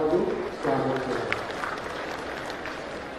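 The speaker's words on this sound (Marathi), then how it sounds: "त्यांचं जोरदार टाळ्या वाजवून स्वागत करा" Applause welcoming a guest at a ceremony for the opening of an MSME technology centre in Sindhudurg, a burst of clapping that fades steadily over a few seconds, mixed with crowd noise and some talking.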